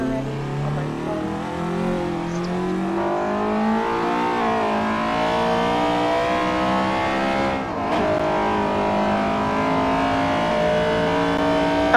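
A 2018 Acura TLX A-Spec accelerates hard in a 0-60 run, its engine note climbing steadily through the gears in a loud, continuous rise, with a brief shift break partway through.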